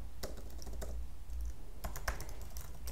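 Code being typed on a computer keyboard, a run of quick light keystrokes in irregular bursts with short pauses, close by and fairly quiet over a low steady hum.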